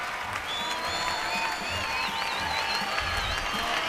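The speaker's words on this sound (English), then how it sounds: "Taking the applause from the crowd" Crowd applause at the 2005 European Standard ballroom dance championship in Russia, dense steady clapping from a large audience in a hall, with faint whistles and cheers mixed in.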